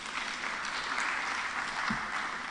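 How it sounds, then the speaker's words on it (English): An audience claps warmly at a Nairobi City County climate action plan event, a dense, steady wash of many hands sustained for a couple of seconds without a break. "give them a hearty clap."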